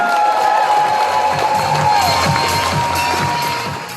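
An outdoor charity kids' festival crowd in Gommersheim cheers and applauds loudly, a thick wash of shouting and clapping that holds strong before easing off at the end.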